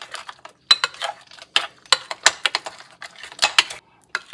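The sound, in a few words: mixing an egg into brownie batter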